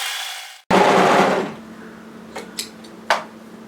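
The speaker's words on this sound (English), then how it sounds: "We're going to sew together this long curved edge." A sewing machine runs in one steady burst, stitching a long curved hood edge on a shrug cardigan, then falls quiet except for a few light clicks and taps of handling fabric.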